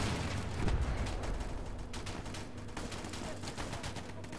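A captured enemy weapon fires in the World War II shooter Easy Red 2, steady rapid automatic shots repeating throughout at moderate loudness against a continuous rumbling battlefield backdrop.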